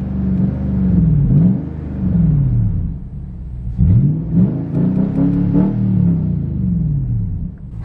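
A Nissan Titan pickup with a newly fitted exhaust revs repeatedly, each loud throttle blip rising and falling in pitch, close by with no voices.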